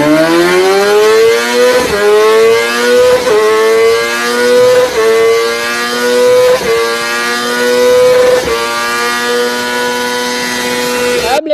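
A Honda CBR 1000RR-R Fireblade superbike screams on a dyno, its engine revving hard and climbing through several gear changes in a loud, continuous, rising wail with brief dips between shifts.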